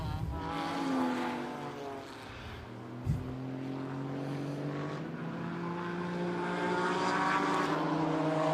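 DTM Trophy race cars on a formation lap at Imola, with a continuous loud engine drone that rises and falls as the cars pass, plus one brief thump partway through and no talking.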